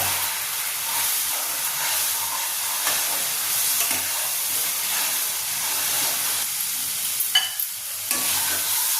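Masala with green chilies and a little chili powder fries and is stirred in a pan, a steady close sizzle with scraping stir strokes and a few sharper clicks near the end, no voices.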